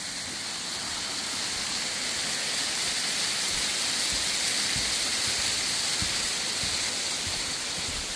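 Mountain waterfalls beside a hiking trail in Shikoku, a constant broadband rush of falling water, even and unbroken, filling the scene without any talk.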